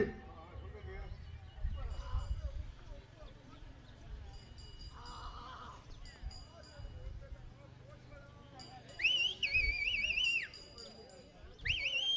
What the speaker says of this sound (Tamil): சீட்டு அடியுங்கள்